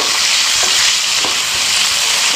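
Onions fry in a pan, giving a continuous bright sizzle close up, with a couple of soft stirring scrapes breaking through the steady crackle; no talking.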